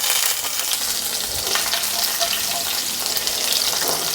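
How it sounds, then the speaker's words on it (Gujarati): Ginger pieces, sliced garlic and spices crackle and sizzle loudly in hot oil in a kadai as a tempering for a bottle-gourd curry. The hissing is dense and constant with occasional stirring, close up and with no voices. "અને વઘાર એકદમ સરસ કકડાવી લઈશું"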